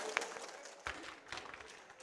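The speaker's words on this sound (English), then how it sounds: "Applause for him." An audience at a Day 4 conference session gives a speaker a burst of applause that sounds faint and distant, and a quiet voice can be heard under the clapping.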